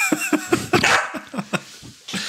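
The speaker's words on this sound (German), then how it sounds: "Da hat der Hund sogar was gesagt." Dog barking in a quick series of sharp, separate yips and barks at moderate distance, with a brief whimpering tone between them.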